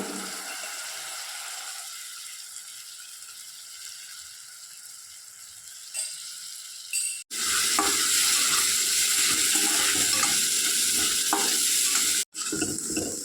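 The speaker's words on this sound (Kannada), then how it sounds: "ನಾನೊಂದು ಎರಡು ಸ್ಪೂನು ಹುಣಸೆ ಹುಳಿ ಹುಣಸೆ ರಸ ಹಾಕ್ಕೊಳ್ತಾ ಇದ್ದೀನಿ" Tamarind juice poured into garlic gojju masala frying in a pan: quiet low sizzle with stirring at first, then a sudden loud burst of hissing sputter that holds steady, briefly broken once near the end.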